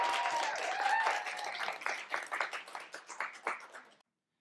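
Applause for a poet at a library poetry slam, starting as a full burst of clapping that thins into scattered, distinct claps from a smaller crowd before stopping abruptly.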